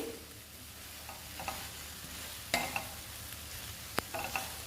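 Chutney ingredients and fresh coriander fry in a pan and get stirred, a close, continuous sizzle broken by sharp scraping strokes and a couple of clear spoon knocks against the metal.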